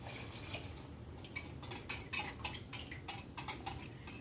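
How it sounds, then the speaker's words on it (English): A spoon clinks and scrapes against a pot while a cornstarch mixture is stirred into a bubbling berry sauce, quick rhythmic metallic ticks that grow steadier and louder, close, with no speech. "You have to continue to stir. Just continue to stir."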